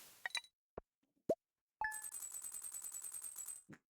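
A meteor crashes and explodes in the farming game Stardew Valley: a few sharp isolated plops and clinks, then a loud sustained burst of rapid, rattling, ringing crackles lasting about two seconds, with no talking.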